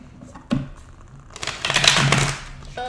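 Tarot cards being shuffled by hand, a couple of brisk riffling and flicking bursts, the longer one in the second half, close and fairly loud with no talk.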